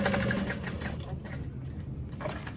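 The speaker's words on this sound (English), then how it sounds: "So I'm gonna sew down the side." A sewing machine stitches down the side of a Mercury backpack from Kaur Threads with a steady, close motor drone and rapid needle patter, a voice faintly present underneath.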